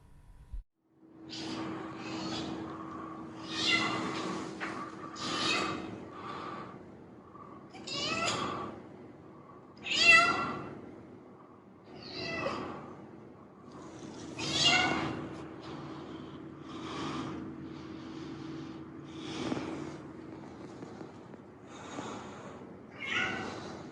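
A cat named Tofu yowls repeatedly in heat, loud, drawn-out calls one after another over a steady low hum.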